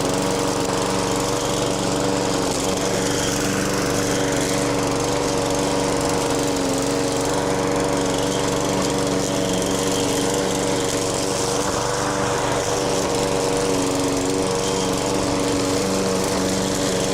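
A lawn mower runs steadily while cutting grass, its engine droning loud and close without letup for the whole stretch, with no talking.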